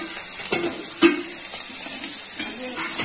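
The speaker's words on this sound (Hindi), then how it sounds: "अब मैं करूंगी थोड़ा सा इसको फ्राई प्याज को" Onions frying in hot tempering oil in a pan for pav bhaji, a steady bright sizzle running throughout with a few soft stirring knocks and clinks.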